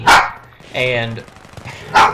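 A pet dog barking indoors: two sharp, loud barks at the start and end, with a drawn-out whiny yelp between them, and someone speaking briefly in between.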